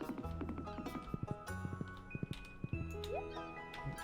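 Hoofbeats of a ridden horse in the farming game Stardew Valley, quick clip-clop strikes in uneven bursts mixed with game music and sound effects.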